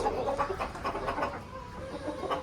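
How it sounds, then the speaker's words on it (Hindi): Roosters clucking and squawking in agitated bursts close by as they fight, with rustling and scuffling through the whole short stretch and no talk. "वो देखें मुर्गा लड़ने शुरू हो गया"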